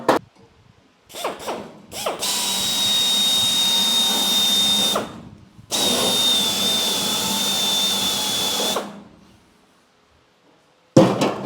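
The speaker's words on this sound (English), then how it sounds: "Let me drill that." A power drill whines loudly in two long bursts separated by a short pause, with brief starts and a clunk around them, drilling out a spot weld on a VW Bus 21-window body.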